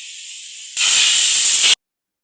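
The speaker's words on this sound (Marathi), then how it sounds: "तर आपण याला आता झाकण लावून 6 शिट्ट्या काढून घेऊ." A pressure cooker on the stove, cooking dal, lets off its whistle: a steady hiss gives way to a loud, rushing burst of steam lasting about a second, then cuts off into silence.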